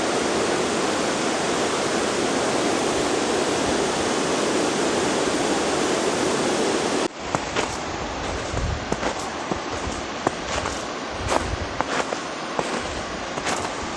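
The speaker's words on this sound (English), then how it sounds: "I absolutely love a strong, fast-running river like this." A strong, fast-running river roars as a dense, steady wash of rushing water, loud and close, then continues more broken with splashing and gurgling bursts for the second half.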